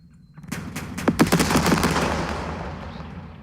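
Gunfire in the video game Second Front: a loud burst of rapid shots in quick succession, dense and sharp at first, then trailing off into a long rumbling decay with no voices.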